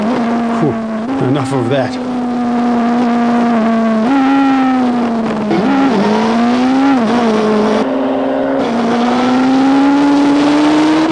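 Hayabusa and ZZR motorcycles roar past at very high speed side by side, a loud sustained engine whine with shifting pitch and short revving bursts, heard alongside a voice.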